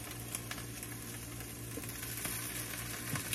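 Pasta frying in a pan for a salt and vinegar snack gives a steady, fairly quiet hiss and crackle of sizzling oil that runs unbroken throughout, with no voices.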